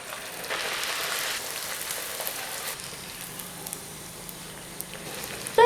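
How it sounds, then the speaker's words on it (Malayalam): Poori fries in hot oil with a steady, fairly soft bubbling sizzle that fades slightly over a few seconds, ending on a brief louder burst; no voices. "ഇനി ഓരോന്നായിട്ട് നമുക്ക് ഫ്രൈ ചെയ്തെടുക്കാം"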